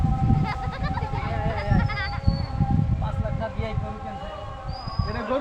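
Goats bleat repeatedly amid a busy Eid livestock market crowd, their wavering cries rising over constant nearby chatter and voices.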